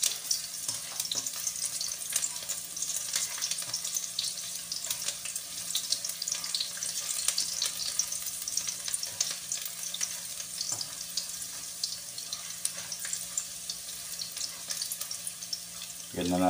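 Garlic frying in a pan for chicken liver adobo gives a steady, fine hiss of sizzling that runs throughout, with faint clinks and kitchen noise underneath.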